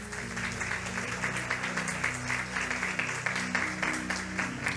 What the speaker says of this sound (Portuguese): dê uma salva de palmas em nome do Senhor Jesus Cristo